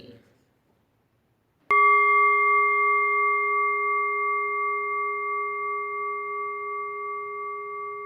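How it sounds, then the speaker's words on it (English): A meditation bell at a Buddhist morning retreat is struck once after a brief voice, ringing clearly with a long, sustained tone that slowly fades. "I open my eyes very gently with the sound of this bell."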